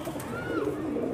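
A pigeon coos on a home rooftop where trained pigeons are settling, a close, low throaty warble rising and falling in one continuous call.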